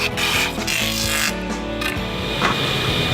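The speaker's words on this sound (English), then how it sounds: "First we're going to rip off this side, which would be the tongue" Reclaimed tongue-and-groove flooring boards being ripped along the tongue edge, a steady, close, continuous rasping cut with dense broadband noise and slight shifts in load, no talking.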